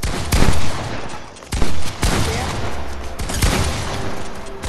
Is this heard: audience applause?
no